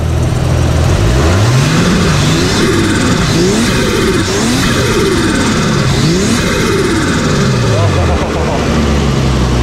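Car engine fitted with a new custom dose pipe exhaust revs repeatedly from idle, each rise and fall of pitch loud and close, a deep rumbling note climbing and dropping in several sweeps before settling back.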